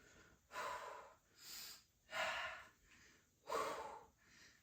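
Heavy, rhythmic breathing during a low impact full body workout: four or five close, audible exhales and inhales in a steady cycle, with no talk over them.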